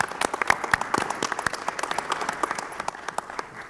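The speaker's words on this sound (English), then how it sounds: "So another round of applause for all our kids from the Special Olympics." A school board meeting audience gives a round of applause for Special Olympics students, a moderate crowd of distinct, sharp claps that scatter and thin slightly toward the end.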